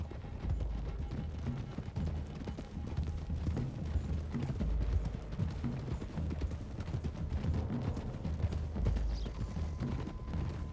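Horses gallop in the Red Dead Redemption 2 video game, a dense, rapid clip-clop of many hooves pounding continuously close by, with creaks of tack and gear mixed in and no talk.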